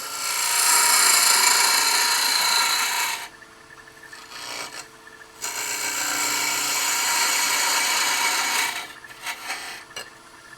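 A parting tool cuts a wooden tenon down on a lathe for a handbell ornament, giving a loud, steady hissing rasp that stops briefly midway, then resumes for several seconds before trailing off into lighter scraping.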